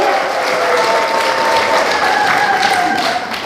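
Dense, sustained audience applause fills a hall at a citizens' forum in Busan on building an independence movement memorial park and history hall, steady and loud throughout with no break.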